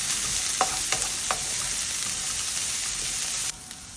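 Chopped carrot is sautéed in a pan for Kerala-style beetroot thoran, with a steady close sizzle broken by a few sharp spatula scrapes, and the sizzle drops suddenly near the end.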